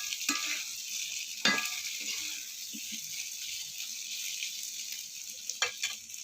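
Chicken frying in a pan, a constant crackling sizzle with a few sharper bursts of spattering near the start and end, close and unbroken, with no one speaking.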